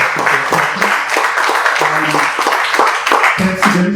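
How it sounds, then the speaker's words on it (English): Guests at a press club newsmaker luncheon in a Milwaukee pub and steakhouse give a round of applause, a short burst of close, uneven hand clapping. "round of applause"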